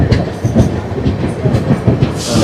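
A train rolls slowly with clickety-clack wheel beats on the rails, loud and close, with a faint hiss at the end.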